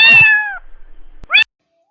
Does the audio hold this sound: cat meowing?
yes